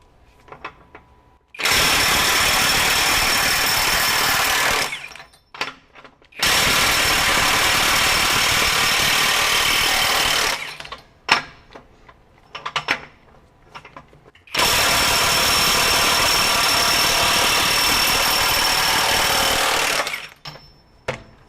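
A Hercules HCB85B 20V brushless ultra-torque impact wrench runs in reverse in power mode 3, giving three long, loud, rattling hammering bursts of several seconds each, separated by short quiet gaps with small clicks and handling noises.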